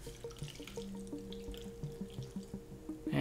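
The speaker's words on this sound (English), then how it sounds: "you'll see the water start to flow down there in that chamber" Water running from a tap into the chamber of an O-Cedar EasyWring RinseClean spin mop bucket, a close, steady trickle with faint clinks and drips, rising to a louder gush at the end.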